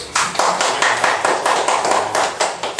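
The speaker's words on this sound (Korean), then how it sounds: "박수!" A small group claps in a loose, uneven patter of sharp hand slaps, close and fairly loud, for a few seconds without talk.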